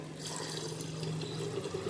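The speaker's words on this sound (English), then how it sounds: "At this point of time, you can just add in water." Water is poured into a cooking pot for vegetable khichadi, a faint, steady trickling stream of liquid filling the vessel for a couple of seconds.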